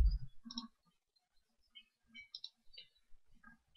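Several sharp, faint computer mouse clicks spaced irregularly while opening a zipped file on a desktop, with no talking.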